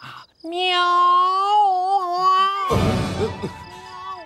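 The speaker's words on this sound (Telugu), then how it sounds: "ఎదో పిల్లి సచ్చినది దీని." A cat gives a long, drawn-out meow that wavers in pitch, loud and close, then breaks into a harsher, noisier yowl near the end, in a nighttime comedy scene.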